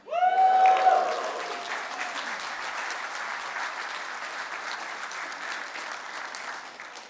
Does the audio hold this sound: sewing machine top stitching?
no